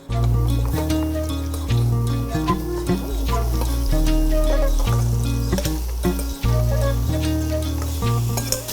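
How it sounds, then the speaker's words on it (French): Squash cooks in a pan with a steady, loud sizzle and frying crackle, punctuated by rhythmic stirring scrapes and clinks throughout, close up with no talking. "Et là, on va cuire la courge même."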